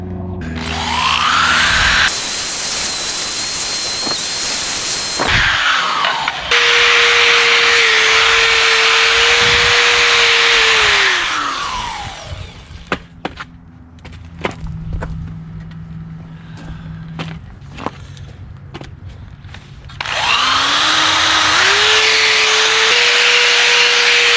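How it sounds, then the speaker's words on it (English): Cup style wire wheel on a power tool cleaning dirt and old dirt dauber nests off a brake backing plate in a garage, loud whirring bursts that spin up and wind down, with scraping and clattering between runs. "we're just going to clean it up with this cup style or bush style wire wheel and get all this crap out of here"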